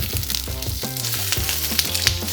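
Wagyu steak searing in a cast iron pan: loud, continuous close sizzle with crackling spatter, overlaid by a steady tonal hum that may be an extractor fan or faint music.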